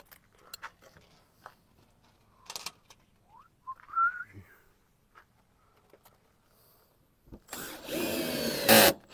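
Power drill driving screws while a Dometic ventilated roof vent is installed on a camper, a short loud whirring burst near the end after scattered handling clicks and quiet pauses.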